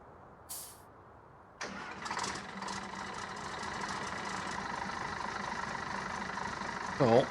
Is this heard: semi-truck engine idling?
yes